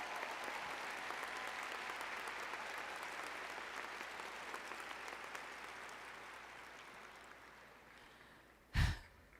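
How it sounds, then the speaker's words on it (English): Commencement audience at a spring 2024 ceremony applauding, a broad, moderately distant wash of clapping that slowly fades, ending with a brief close thump or breath near a microphone. "please give them a big applause"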